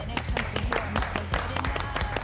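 Applause from the audience at a golf competition award ceremony, a steady patter of clapping with some overlapping speech and low musical or hall tones underneath.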